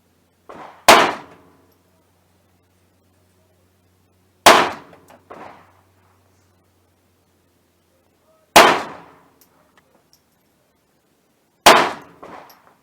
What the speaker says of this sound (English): here's the group I shot with the Winchester silver tip from the Ruger 2245 Lite